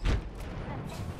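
A frag grenade blast in a shooter video game, a short low thump at the start followed by quieter rumbling booms.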